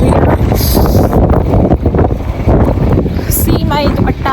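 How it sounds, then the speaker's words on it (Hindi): Strong wind blows at a rest stop on a bus journey from Kuwait toward the Saudi border, a loud, constant buffeting roar over the microphone with brief gusts and dips throughout. "तेज़ हवा चल रही है।"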